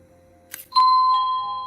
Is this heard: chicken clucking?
no